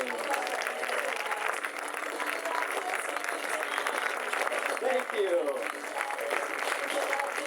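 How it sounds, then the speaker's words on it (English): Spectators at a water ski show applaud the jump team as the skiers come into shore behind a 2010 Ski Nautique boat. The clapping is steady and continuous, with a short spoken thanks over it. "how about a round of applause for the jump team?"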